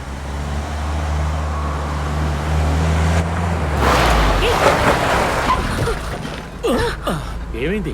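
A car drives with a steady engine hum, then a sudden harsh burst of braking cuts in, followed by excited voices talking.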